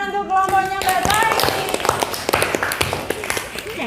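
Classroom applause for a student group after their presentation, a burst of scattered claps from the class mixed with chatter and voices throughout.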